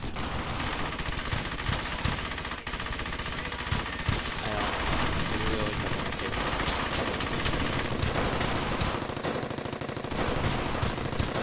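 Machine gun fire from an MG-42 in the World War II shooter Brothers in Arms: Hell's Highway, a dense, continuous chatter of bursts mixed with scattered shots and battle noise, loud and sustained.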